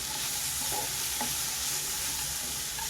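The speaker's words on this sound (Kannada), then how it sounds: "ಎಲ್ಲನೂ ಚೆನ್ನಾಗಿ ಫ್ರೈ ಆಗಬೇಕು. ಒಂದು 10ರಿಂದ 12 ಗೋಡಂಬಿನ ನಾನಿಲ್ಲಿ ತಗೊಂಡಿದ್ದೀನಿ." Cashews frying in a pan for egg masala give a steady, close sizzle with a few soft stirring scrapes throughout.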